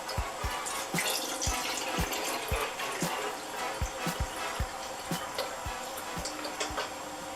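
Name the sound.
filling a can with water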